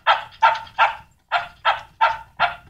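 A dog in an animated film barks in a quick, even series of seven loud, close barks, a short pause breaking the run after the third, with no talking over them.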